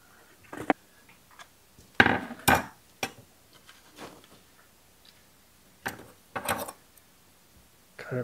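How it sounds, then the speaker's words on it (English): Pliers gripping and working the fuel hose on a Troy Bilt string trimmer, heard as a few sharp metallic clicks and scrapes spread out over a quiet background. "Let's get that with some pliers."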